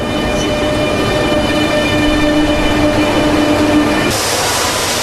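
A Spanish AVE high-speed train rumbles steadily past with a sustained roar and faint high whine, growing brighter and noisier toward the end, in Zaragoza.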